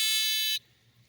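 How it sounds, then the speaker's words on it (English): Piezo buzzer in a Victor sonic mole and gopher repeller, run by three D batteries and a small circuit board that fires it every 15 seconds: one loud, steady high-pitched electronic tone lasting about half a second, then a sudden cut to near silence. "You can see it's just 3 D batteries and a little buzzer."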